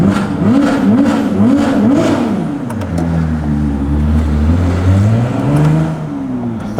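Novitec-tuned Ferrari 296 GTB engine revs loud and close, rising in short pulses before settling into a sustained, swelling drone as the car accelerates, with no talk over it.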